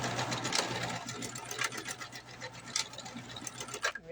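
A sewing machine runs steadily, stitching elastic along the curved edge of a fabric pocket, its fast mechanical whirring close and continuous with small surges in speed.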